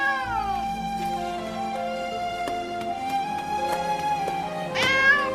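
An alley cat in an animated series gives a long, drawn-out, wailing meow that holds steady for several seconds and rises in a sharper cry at the end, loud and close.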